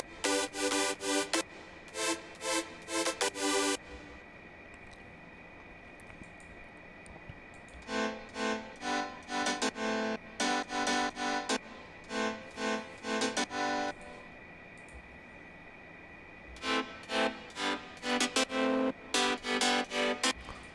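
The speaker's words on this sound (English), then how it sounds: "And now it's time to add some chords." Future house synth chords play in short bright rhythmic stabs, grouped in bursts separated by gaps, with no voice over them.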